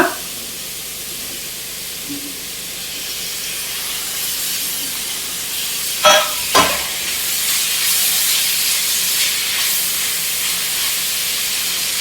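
Tomatoes tipped into a bitter gourd stir-fry land with two quick clatters midway, and a continuous loud frying hiss runs throughout, growing a little stronger after they go in.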